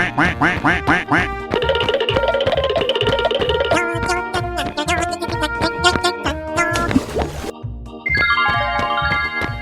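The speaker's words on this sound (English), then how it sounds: "Quack, quack, quack, quack, quack, quack." Cartoon duck quacking in a 3D animal slide game, a quick run of repeated quacks over bright, busy game music, loud and close.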